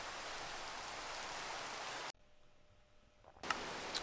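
Steady rain hisses at night in a video game, then cuts out abruptly for over a second before the downpour resumes with a few sharper drops.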